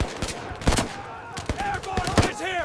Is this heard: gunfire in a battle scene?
yes